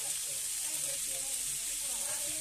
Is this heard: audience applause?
no